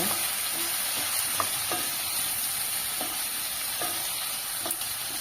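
Chopped tomato is stirred into a simmering rice-flour sambar: a soft, continuous frying hiss with scattered light scrapes and clicks of the spoon against the pot, and no voices.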